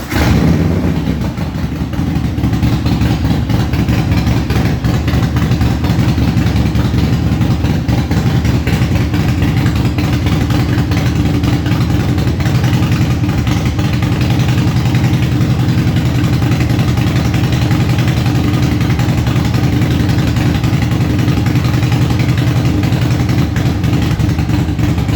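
Harley-Davidson Breakout 117 with a CR484 cam, stage 2 Gen 2 build, runs steadily on a dyno, a loud continuous low engine drone with a lumpy idle throb that holds for the whole stretch without talk.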